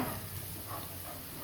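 Spice masala with plenty of garlic frying in a pan during fish curry cooking, a faint steady sizzle and hiss running continuously at low level, no talk.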